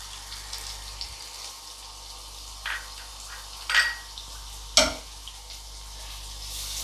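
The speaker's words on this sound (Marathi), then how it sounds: "आता आपण कांदा घालून घेऊया." Chopped onion goes into hot oil for a Marathi val bhaji, giving a low, quiet sizzle broken by a few sharp clinks and scrapes of a utensil against the pan, with no talking.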